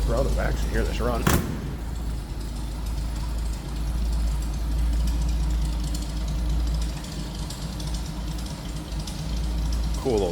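A 1934 Chevrolet DB pickup, recently cold-started, idles steadily with a low, even rumble and a faint rhythmic knock, heard close from behind the truck, with a brief sharp noise early on.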